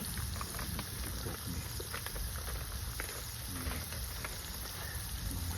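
Rain falling outdoors, a faint, steady patter of drops with scattered small ticks over a continuous hiss, quiet and unbroken throughout.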